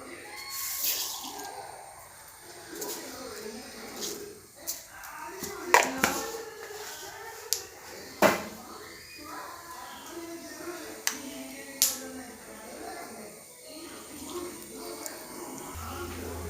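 Mustard seeds tossed into hot oil for a curry of drumstick leaves and jackfruit seeds crackle with scattered sharp pops and spits over a soft sizzle. The sound is fairly faint and heard at close range.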